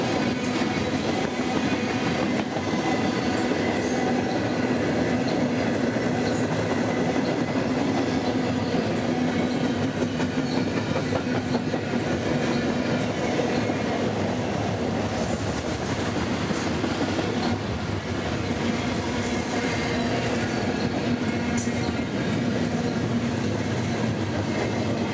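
A long double-stack freight train rumbles past close by in Flagstaff, Arizona, wheels clacking and droning continuously with faint metallic squeals.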